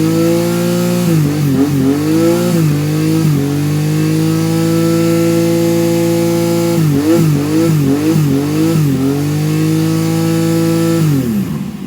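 A Nissan Z31 engine, recently fitted with dual electric cooling fans and a low-temperature thermostat, idles steadily up close and is blipped in two sets of short revs, rising and falling, with no talking.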